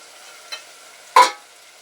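Mutton, already boiled with turmeric and salt, goes into a frying pan for gongura curry: a faint scrape, then one loud, close burst of sizzling and stirring that fades quickly.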